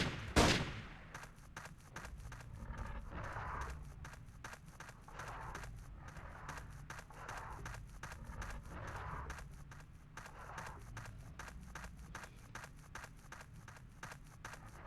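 Gunfire in the 1998 PC game Trespasser: a long, evenly spaced run of quick, faint shots that snap out in steady rhythm after one louder opening blast, with low background hum throughout.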